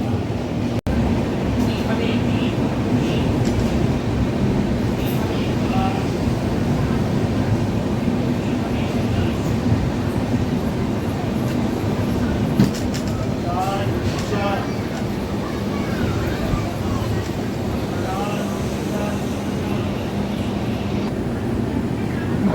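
The Kandari Express night train pulls out of Digha station, a continuous low rolling rumble with faint squeals and clatter, while someone talks over it.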